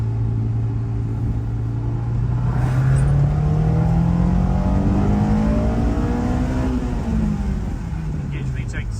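A Honda S2000 in rough running condition revs hard as it climbs through the gears to engage VTEC, the engine note rising steadily and loudly from inside the car, with some talk over the top.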